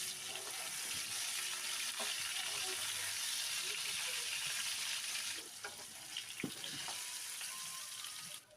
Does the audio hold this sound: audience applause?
no